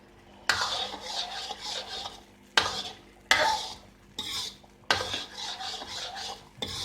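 Metal spoon scraping and clattering inside a pot of fried mash daal as chopped green chillies are stirred in, in repeated bursts with sharp starts and short pauses; close and clear, no talking.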